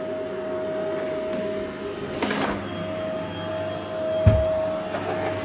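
A Shark CZ250UKT cylinder vacuum cleaner with a powerhead runs on a kitchen rug, giving a continuous close drone with a steady whine and occasional bumps and scrapes as the head is pushed over the pile.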